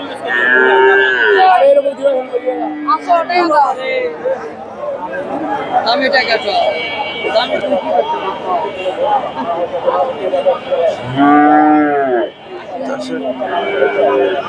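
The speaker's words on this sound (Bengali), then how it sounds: "প্রচুর বকনা গরু," Cattle, including young Friesian heifers, moo repeatedly at a busy livestock market, loud and close, with a crowd chattering and people talking throughout.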